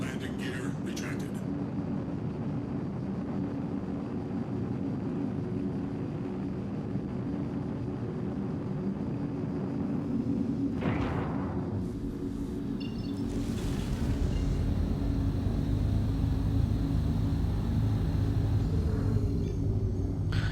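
A spaceship launches and lifts off in Star Citizen, a continuous deep engine rumble that swells louder toward the end, with a few short mechanical whooshes and a person talking over it.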